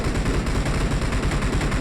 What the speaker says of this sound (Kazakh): адам бір-бірімен атысып отыр, жестко